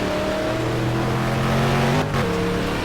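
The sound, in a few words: off-road racing buggy engines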